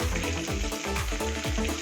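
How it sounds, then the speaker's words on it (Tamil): Spices and asafoetida sizzle in hot oil in a pan as they are sautéed for venpongal. The frying crackles steadily and close, with a rhythmic scraping stir repeating about every quarter second. "இது எல்லாத்தையும் நல்லா வதக்கி விட்டுடலாம்."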